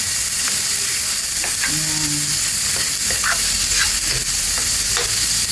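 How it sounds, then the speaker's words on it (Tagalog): Ground pork browning in a pan for spaghetti: a loud, constant sizzle and hiss of frying meat, with occasional scraping stir strokes and brief clinks of a utensil against the pan, close and without talk. "Kailangan i-brown natin yung giniling."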